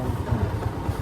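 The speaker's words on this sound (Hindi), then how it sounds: "ओह भाई बहुत बड़ी बाइक है आपकी।" A big motorcycle engine idling close by, a low steady chugging pulse with a slight clatter, no talk over it.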